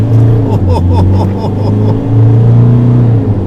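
A Mazda BT-50 3-litre pickup truck engine drones and shifts pitch while driving, a loud low rumble with rising revs, voices faintly present beneath.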